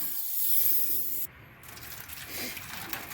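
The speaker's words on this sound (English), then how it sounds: "Spray out some more" A hissing spray of liquid rushes steadily into an old gas can being cleaned, then cuts off abruptly and gives way to quieter splashing and sloshing noises.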